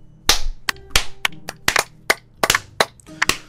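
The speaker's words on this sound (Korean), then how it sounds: "다들 박수" Sharp, separate claps of Minecraft game applause ring out one after another in an irregular rhythm, loud and close, with no voices.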